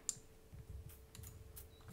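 Quiet keystrokes on a Razer Huntsman Elite keyboard, a few soft scattered clicks against a low background hum, with no talking.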